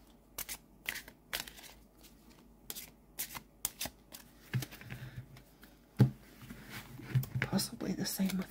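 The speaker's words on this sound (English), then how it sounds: "they would be better to overhand than to riffle shuffle" Stiff limited-edition tarot cards are shuffled by hand in quick crisp bursts of snapping and flicking, close up, with soft talking mixed in toward the end.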